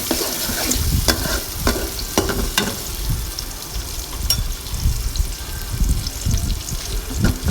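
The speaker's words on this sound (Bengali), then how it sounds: "দিয়ে দিলাম পেঁয়াজ, দিয়ে ভালো করে নেড়ে চেড়ে নিব" Onion frying in oil with bay leaf, cumin, cardamom and cinnamon, stirred in a pan: a steady close sizzle with repeated scraping and clinking strokes of a spoon throughout, no talking.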